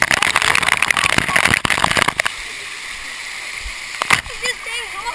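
Water shower spraying and splashing at an indoor pirate ship play area, a loud hissing rush for about two seconds that cuts to a quieter wash, with another brief burst near the end.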